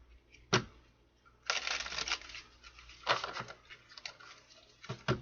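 Cards riffled in a deck shuffle: several brisk crackling bursts at irregular intervals, close and moderately quiet, with soft rustling in between.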